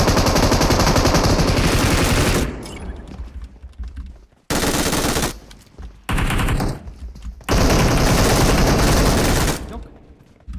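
Video game gunfire from a shooter rattles out in long, loud automatic bursts, with brief pauses between the volleys.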